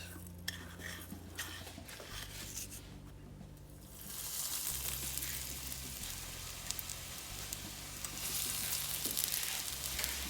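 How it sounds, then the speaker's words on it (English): Spring rolls coated in beaten egg and breadcrumbs fry in hot oil with a steady sizzle that swells louder after a few seconds, joined by occasional light clinks of utensils against the pan. "This will fry really fast."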